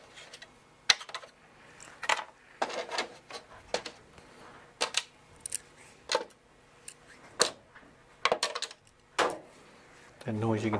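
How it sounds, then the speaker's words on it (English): Scattered irregular taps and scrabbling thumps from a cat moving across a house roof, heard faintly overhead in a quiet indoor room, with short bursts spaced every second or so. "That noise you can hear is a cat on my roof."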